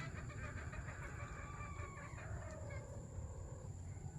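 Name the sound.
chicken clucking and crowing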